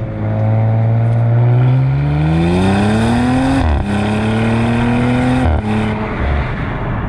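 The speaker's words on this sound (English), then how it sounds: "it just has a wonderful induction noise, and then it does those sort of upshift pops and downshift pops" Audi RS5 Performance engine pulling hard under acceleration, a loud, rising induction howl through the gears with abrupt breaks at the upshifts, close and continuous with no talk.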